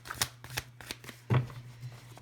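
Tarot cards being shuffled by hand, a series of quick crisp riffling flicks in an irregular rhythm, close and fairly quiet over a low steady hum.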